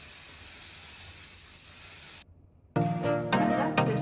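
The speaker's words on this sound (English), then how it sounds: "today I'm using the Kryolan setting spray." Kryolan makeup setting spray hisses out in a long, steady mist close to the mic, stops briefly, then gives way to louder clattering handling noise.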